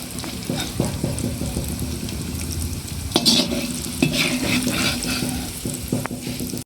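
Steady sizzling of vegetables frying in a wok, with repeated scraping and stirring clatters of a metal utensil throughout.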